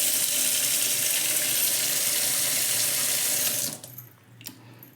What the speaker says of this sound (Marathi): हे पहा येणार पाणी